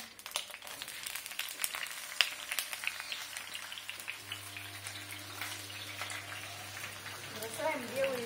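Steady crackling sizzle of bok choy and garlic stir-frying in hot oil in a wok, with scattered pops throughout and a low hum underneath.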